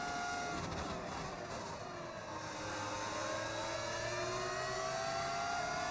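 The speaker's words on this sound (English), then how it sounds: "I can just hear a Red Bull engine behind me." A Red Bull Formula 1 car engine in the F1 26 video game screams at high revs with a rising, shifting whine that runs steadily and fairly loud throughout, laid over other in-game engine noise.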